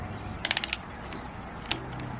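A torque wrench turns a bolt on a race engine block, a quick burst of about five sharp ratcheting clicks, then one more faint click, close and clear over low background hum.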